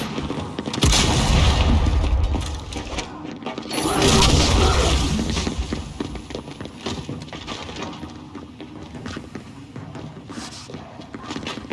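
A frag grenade in Gears 5 multiplayer goes off in two heavy, booming blasts a few seconds apart, each followed by rumbling debris, amid scattered game noise and brief crackles.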